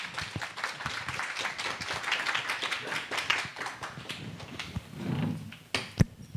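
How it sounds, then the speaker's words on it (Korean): An audience at an Africa cafe culture talk in Gwanghwamun clapping to welcome two guest speakers, with uneven nearby claps that swell and thin out and a few louder knocks near the end. "박수로 한번 두 분 모셔볼게요"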